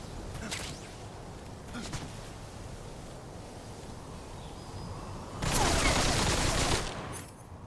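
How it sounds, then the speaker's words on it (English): Gunfire rattles through a Metal Gear Solid Delta: Snake Eater battle, scattered bursts early on and a dense, loud volley near the end, over a constant noisy background. "Now stop shooting me."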